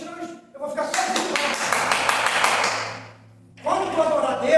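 Hands clapping in worship during an evangelist's church sermon: a dense run of rapid claps with people talking, a brief lull, then voices again.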